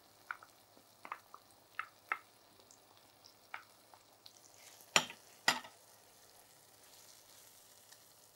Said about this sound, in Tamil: லைட்டாக நம்ம இந்த ஒரு பச்சை வாசனை போகிற அளவுக்கு லைட்டாக வதக்கிக்கலாம்